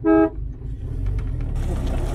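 Car horn blasts once, short, loud and close, then gives way to a low engine rumble and road noise as the car pulls away.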